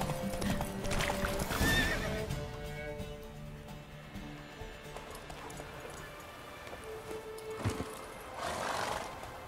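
Horse hooves clip-clop steadily in The Witcher 3 video game, with loud neighs and whinnies near the start and again near the end, close and clear.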